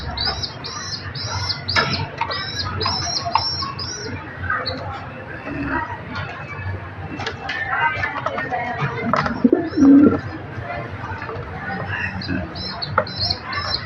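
A pigeon coos from close by amid a noisy loft, with a brief burst of wing flaps. Other birds chirp and cluck around it, and people speak faintly in the background.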